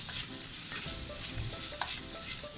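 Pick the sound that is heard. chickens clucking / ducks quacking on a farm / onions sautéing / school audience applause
onions sautéing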